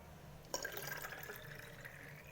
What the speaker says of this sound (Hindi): और अब इसमें मैं पानी ऐड कर लूँगी।